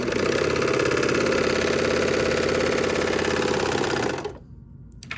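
A serger sewing machine runs steadily while stitching fabric, giving a loud, fast, even mechanical whir that stops abruptly near the end, leaving quiet room tone.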